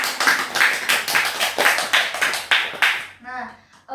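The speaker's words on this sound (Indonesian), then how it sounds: "Tepuk tangan buat Moza." A small group in a counselling session claps together, a quick run of steady, fairly close hand claps that fades into a voice at the end.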